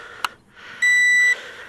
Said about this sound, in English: One beep letting us know the transmitter is on